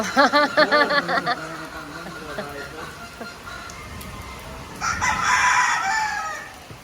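A rooster crows loudly nearby on Mount Banahaw, followed by clucking and voices talking in the background.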